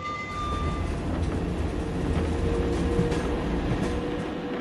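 A wartime NBM tram on the Utrecht–Zeist line rolls along with a continuous, dense rumble and rattle of wheels and car body, steady and fairly loud.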